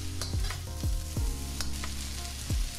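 Vegetables stir-fry in a hot pan, with a close, steady sizzle broken by several sharp knocks of the utensil against the pan, with no talking.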